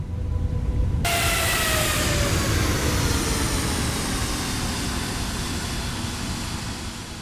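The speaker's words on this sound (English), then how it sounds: "I'll leave you to enjoy the sounds of the aircraft as we slowly taxi" Jazeera Air Airbus A320neo taxiing to the gate after an evening landing, a loud steady jet engine roar with a whining tone that glides downward, continuous throughout with no talking.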